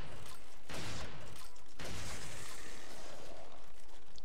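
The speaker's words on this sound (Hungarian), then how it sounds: "Lőttem rá hármat, csak a harmadikba halt bele." Two loud blasts of gunfire in Resident Evil 4, each a sharp crack trailing into noisy rumble, followed by a lingering hissing decay and faint clatter.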